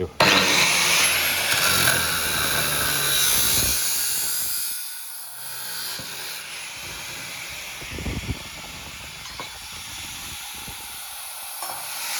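Metal parts for the perimeter of a flight-simulator pedal frame being cut: a loud, steady grinding hiss and whine for about four seconds, then quieter handling and clatter with intermittent bursts.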